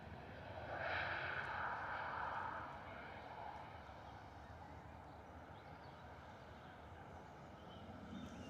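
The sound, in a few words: Ryanair jet departing and climbing out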